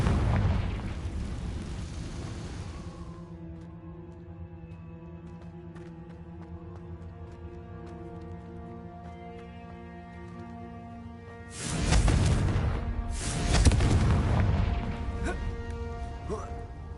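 Confringo blasting spell in Hogwarts Legacy: a broad blast opens, then a low sustained hum, before two loud, close bursts of explosive crashing near the end.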